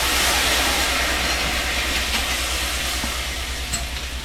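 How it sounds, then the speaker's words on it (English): Wine hitting a hot pan to deglaze it after cooking fish piccata, a loud, steady sizzle and hiss that fades slightly toward the end, with no voices. "That's deglazing that pan down nice."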